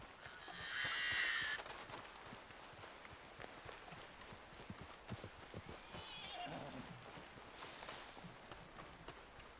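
A horse in the video game Red Dead Redemption 2 gives a short whinny early on, followed by a quiet clip-clop of hooves and faint ambient sounds; the whole scene is low in volume.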